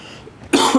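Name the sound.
coughing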